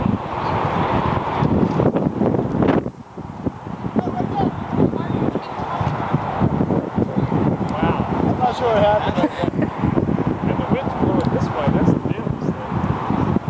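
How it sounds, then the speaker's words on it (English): Strong gusting wind buffets the microphone outdoors with a constant rough roar, while people talk over it nearby. "this wind is killer"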